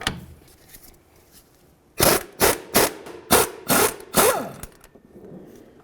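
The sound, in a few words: socket wrench with 18mm socket removing a nut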